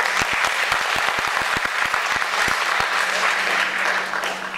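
Audience clapping at a Bengali folk stage drama performance, a dense continuous applause from a crowd with sharp individual claps standing out, steady and loud throughout.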